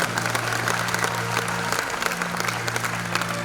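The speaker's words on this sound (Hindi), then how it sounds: "एक बार ऐसे वापसी के लिए जोरदार तालियां हो जाए" An audience at a talk on Jain devotion breaks into applause, a continuous wash of many hands clapping over a low steady hum, moderately loud and unbroken across the whole stretch.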